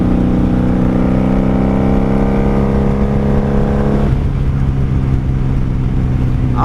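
A 1995 Honda Magna VF750C, a 750cc V4 cruiser with four separate pipes, drones steadily and loudly while being ridden. A sustained engine hum holds, then the pitch and load shift partway through as the throttle changes.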